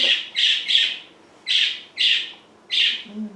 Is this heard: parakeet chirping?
yes